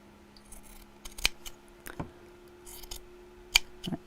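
Scissors snip through sewing fabric pieces in a quiet room, three or four sharp separate cuts spread across a few seconds, close and fairly faint, with no talking.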